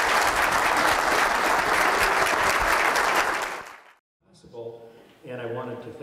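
An audience gives a big round of applause at an Offutt School event, loud sustained clapping for about four seconds that fades out, then a voice begins speaking alone.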